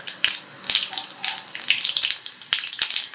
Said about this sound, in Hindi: राई की आवाज़ आ रही तड़कने की।